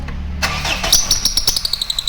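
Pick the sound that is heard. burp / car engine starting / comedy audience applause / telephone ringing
car engine starting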